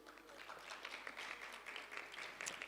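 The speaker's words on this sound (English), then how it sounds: "A big round of applause for you." An audience at a plenary conference session applauds a speaker with soft, steady, distant clapping that continues without a break.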